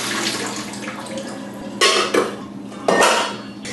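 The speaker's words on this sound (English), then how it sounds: "I'm going to drain them, rinse them under cold running water," Steamed green beans are drained and rinsed under cold running tap water in a kitchen, with a steady rush of water broken by a few sharp clanks of a pot and colander, up close and with no talking.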